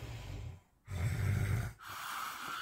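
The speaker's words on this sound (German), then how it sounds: "Das ist kein Schnarchen, das ist eher Atmen." Heavy, rasping breaths of a sleeping person, in and out with a snort-like edge but not snoring, separated by short silent pauses, close and loud with no talking.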